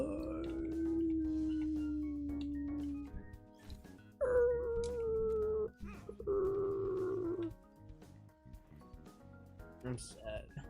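A man imitates a long wavering howl at the moon, holding several sustained, sliding vocal tones with short breaks between them, loud and close, ending with bits of talk.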